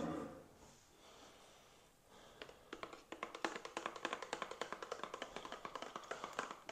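A drink stirred or shaken in a container, quick rhythmic tapping clatter building after a quiet start and repeating steadily at close range.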